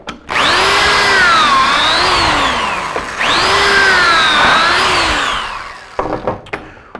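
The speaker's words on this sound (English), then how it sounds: "We're going to drill our pocket holes in our 90 about every 6 to 8 inches" A power drill boring pocket holes into a wooden piece with a Kreg jig makes two loud whining bursts, each rising and dipping in pitch, followed by brief clatter as the drill stops.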